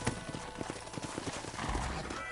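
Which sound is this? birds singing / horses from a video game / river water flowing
horses from a video game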